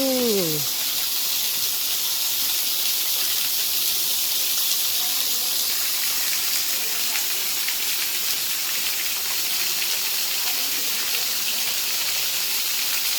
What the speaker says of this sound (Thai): ที่เรียกว่าน้ำตกถ้ำบอนนะจ๊ะ